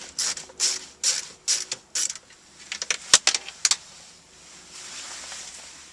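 Screws holding a Nissan Altima Bose car stereo are backed out, producing a close series of short ratcheting, clicking bursts in quick succession, then a quieter stretch of faint hiss.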